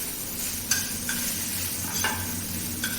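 Green chillies, garlic and coriander sizzling in a pan for a village-style kharda chilli relish, with a constant close frying hiss and several sharp scraping spatula strokes at irregular intervals, without any voices.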